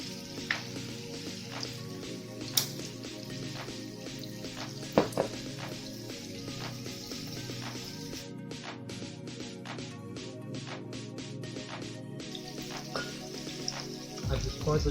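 Chicken hearts and liver fry in a pan for a giblet curry, a steady close sizzle broken by light stirring scrapes and clicks, with no talk over it.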